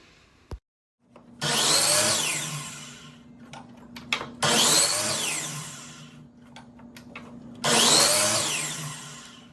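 Miter saw slicing through thin wood strips for a wooden snowflake, three loud separate cuts, each with a bright whining rasp over a steady motor hum.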